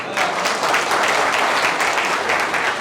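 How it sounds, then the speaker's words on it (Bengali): A ceremony audience gives a police officer a loud, sustained round of applause, dense clapping filling the whole stretch without a break. "আপনারা সবাই ওনার জন্য একটা হাততালি দেন"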